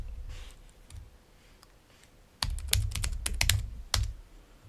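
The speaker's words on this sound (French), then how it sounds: "Comme mot de passe, je vais taper mon mot de passe sécurisé." Close keyboard typing, a few scattered taps at first, then a quick burst of clacking keystrokes.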